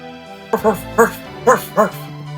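A dog in the video game Dragon Quest IX gives four short, clear barks in quick succession over soft game music.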